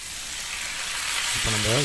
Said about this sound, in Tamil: இப்போ நம்ம இதை நல்லா பரட்டி விட்டு கொஞ்சம் லேசாக ஃப்ரை பண்ணிக்கலாம்.